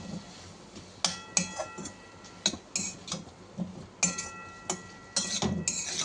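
A spoon scrapes and clinks against a cooking pan while spices and chilli are stirred for a biryani-style vegetable dish, giving irregular sharp metallic taps close by with no talking.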